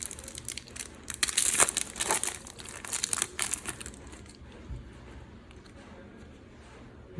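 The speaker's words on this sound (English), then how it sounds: "Arranging the cards so I can sort them out." Match Attax football trading cards from a Champions League pack are shuffled and handled, giving close crinkly flicks and rustles for a few seconds that then fade to quiet background.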